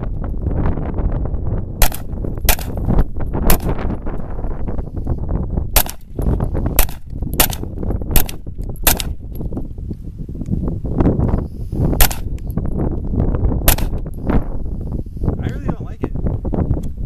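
A KelTec Sub 2000 .40 Glock-version pistol caliber carbine fired outdoors, with about a dozen sharp, loud shots spaced irregularly over steady wind noise and people talking.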